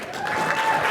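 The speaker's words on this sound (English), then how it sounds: "Let's give these guys a big round of applause." Audience applause fills a morning conference hall as a motivational speaker comes to the stage, a dense steady clatter of clapping hands close and loud throughout.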